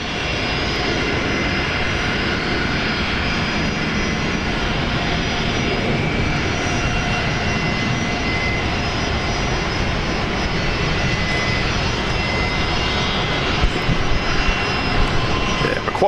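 Continuous loud roar of airliner engines at Brisbane Airport, a steady broadband drone with a faint whine running through it, holding evenly with no talk.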